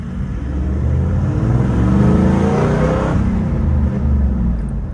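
Toyota Land Cruiser LX V8 engine revving, a loud, close rumble that rises in pitch, peaks and eases back down while the vehicle sits in Namibia.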